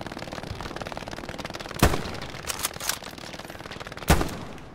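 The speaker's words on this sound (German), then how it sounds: "MG Feuer auf mich" Machine gun fire in a World War II–style shooter set on the Kursk front, heard as dense rattling bursts across the whole stretch, with two sharp louder impacts standing out above the steady chatter.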